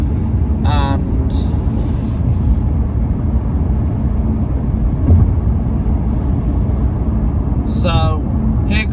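A car cruises along the M5 motorway while overtaking two heavy goods vehicles, with a steady broadband roar of tyres and wind throughout and a person talking over it.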